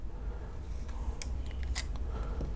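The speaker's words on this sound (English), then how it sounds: "And when you open up the pens" Visconti fountain pens, a Homo Sapiens Bronze Age and an M800, are uncapped up close, giving a few sharp, crisp clicks over a quiet room hum.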